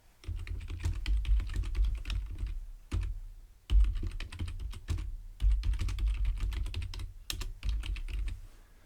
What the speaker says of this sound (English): We can type